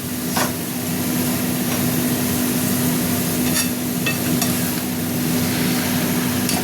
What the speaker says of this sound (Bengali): তেল ছেড়ে দিয়েছে। এবার আমি বাঁধাকপিগুলো দিয়ে দিচ্ছি।